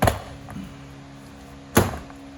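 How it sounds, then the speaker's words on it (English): Two sharp plastic-and-metal pops, one at the start and another near the end, with a quiet low hum in between, as clips snap loose from a 2008 Toyota Camry driver's door panel. "Now I think it's safe for us to just yank away and open up the door panel."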